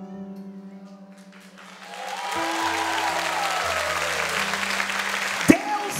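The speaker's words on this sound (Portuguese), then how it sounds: "Quero ver se você vai aplaudir agora" Congregation applauding at a worship night in church, clapping swelling in after a couple of seconds over sustained keyboard or organ chords, with a sharp knock near the end.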